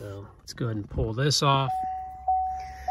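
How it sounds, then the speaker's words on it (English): Someone speaks, then a steady electronic chime-like beep sounds from a 2nd gen Chevy Volt during shifter replacement with the shifter in neutral, holding a sustained tone with a short pulse near the end. "sorry about the beeping."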